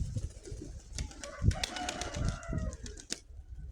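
A pigeon in flight, its wings flapping in quick bursts of beats nearby, with soft bird calls around it outdoors in poor weather.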